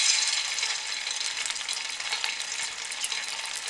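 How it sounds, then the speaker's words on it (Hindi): Potatoes frying in hot cooking oil in a kadhai, a dense, steady, close hiss and bubble that carries on without a break and with no voices. "अब इसमें हम ये आलू फ्राई करेंगे।"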